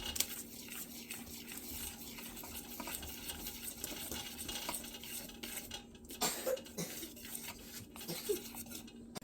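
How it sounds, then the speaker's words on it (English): Flour and salt whisked together in a bowl for a sweet tea pound cake: quick, repeated scraping strokes and light clinks of the whisk against the bowl, close and fairly soft. "And I'm just going to whisk it together."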